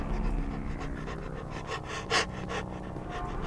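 Rapid, dog-like panting from an enemy in the horror video game Cry of Fear, steady and fairly close for several seconds, with one brief louder burst partway through.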